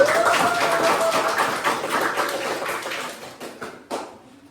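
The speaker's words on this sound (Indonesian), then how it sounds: "tepuk tangan untuk kelompok" Students in a classroom clap for a group, a brisk crowd of hands that slowly fades, ending with a few scattered, isolated claps.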